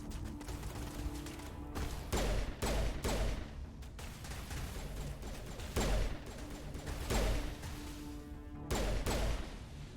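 Mass Effect video game gunfire, with loud bursts of shots arriving in clusters every second or two, close and sharp over a constant busy battle background.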